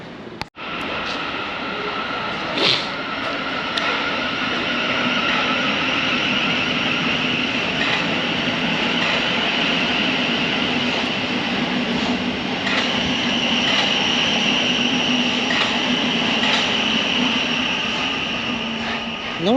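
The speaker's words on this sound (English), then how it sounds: "That was a Thameslink service for Raynham." A Thameslink passenger train passes a bus stop at Gayton Road, a loud sustained rumble and roar with a high wheel squeal, holding steady throughout with no talk.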